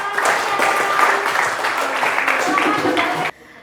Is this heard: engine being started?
no